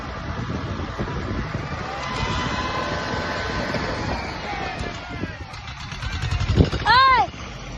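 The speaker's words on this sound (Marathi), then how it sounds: "ही बघा आता तिन्ही ट्रॅक्टरची ताकद बघा" Three tractors pull together in a sugarcane field, their engines droning loudly and rising in strain toward the end, with a brief tonal blare near the close and people shouting over the noise.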